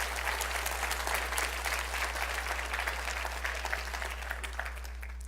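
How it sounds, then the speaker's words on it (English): Conference audience giving a sustained round of applause after a coral restoration talk, dense even clapping from a large crowd that carries on steadily and eases slightly toward the end, with a low steady hum underneath. "Can we please give them one more round of applause?"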